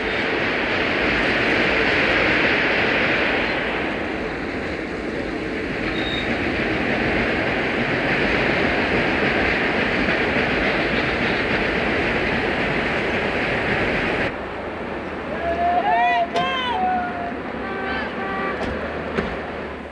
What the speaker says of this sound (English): you can hear the acceleration as the throttle is opened.